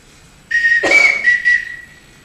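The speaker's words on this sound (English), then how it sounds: "Everyone in this house answers to a whistle." A single blown whistle sounds in a house, a sharp high trill with several bursts and a held tone, loud and alone.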